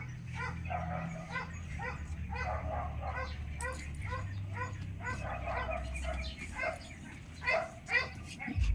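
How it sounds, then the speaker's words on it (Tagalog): A dog whimpers and yips repeatedly in short, high cries with a low droning hum underneath, the crying steady and fairly close throughout. "Bakit kaya yung aso dyan palaging umiiyak ba?"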